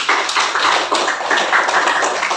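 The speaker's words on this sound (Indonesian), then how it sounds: "Tepuk tangan sekali lagi untuk kita." A classroom of pupils clapping hands together in a steady, dense burst of applause that fills the room for a couple of seconds, loud and close with no talking over it.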